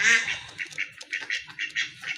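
A pair of Mayna Jack pigeons calls repeatedly, a string of short, close, moderately loud coos pulsing in an uneven rhythm with no voices.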